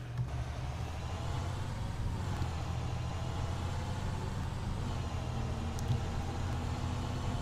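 Blue Bird WorkStar school bus driven in the Rigs of Rods game over bumpy, uneven ground, with a steady low engine drone and road rumble running continuously, fairly loud and without any talk.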